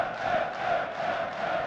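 A crowd at the European Darts Grand Prix, a steady wash of distant, blended voices and chanting that rises and falls gently, with no single voice standing out.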